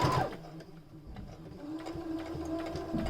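A sewing machine back-stitches a fabric face mask, a close, steady mechanical needle rattle running for a few seconds with a brief pause and an even hum underneath.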